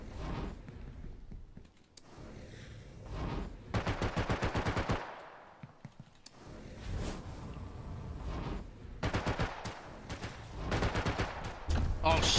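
Rapid automatic gunfire from the Star Atlas video game, long machine-gun bursts separated by short pauses, loud and close, with a player's voice talking between and over the shots.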